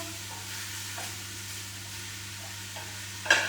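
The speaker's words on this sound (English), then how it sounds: "when our mincemeat's cooking, we can hear this kind of sizzling sound" Minced beef for chilli sizzles quietly in a pan with a soft steady crackle and a low background hum, ending in a brief scrape of stirring.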